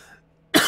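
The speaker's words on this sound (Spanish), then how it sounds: "me tapo la boca para toser" A man coughs once, sharply and close, after a stretch of near silence while he plays Minecraft alone.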